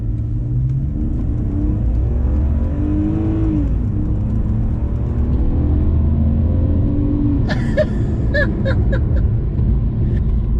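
A BMW E46 330i engine revs up and settles back in a loud, close rumble with rising and falling pitch, followed near the end by several sharp blips of the throttle.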